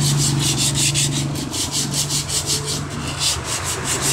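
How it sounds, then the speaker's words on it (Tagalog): Brisk back-and-forth wet sandpaper scrubbing on a rusty steel Yamaha YTX motorcycle handlebar, a fast even rhythm of rasping strokes close by, with no talking. "Lihain lang natin ang gusto hanggang sa lumabas yung bakal."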